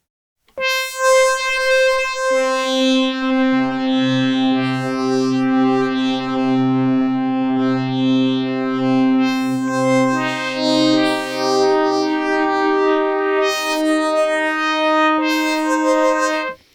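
A sustained Hydrasynth synthesizer tone with rich harmonics, slowly shifting and swelling under mod-matrix modulation, washed in reverb, playing alone for the whole stretch.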